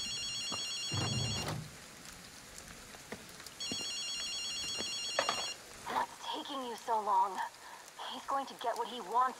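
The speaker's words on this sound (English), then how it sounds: "Hear a phone?" A telephone in the video game Ghostwire Tokyo rings in two bursts of electronic trilling over rainy ambience, and voices talk afterward.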